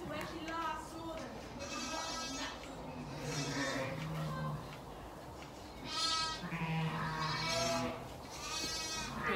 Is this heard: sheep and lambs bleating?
yes